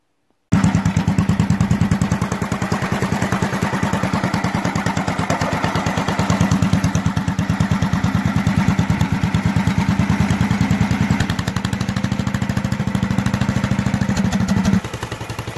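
A homemade garden tractor with a Wheel Horse transmission in third gear runs steadily, its small engine chugging in a fast, even, rhythmic putter at close range, then drops to a softer idle near the end.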